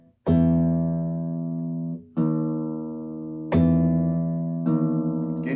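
Guitar string plucked after being tuned lower, ringing in four separate sustained plucks, each decaying slowly before the next, played alone and close.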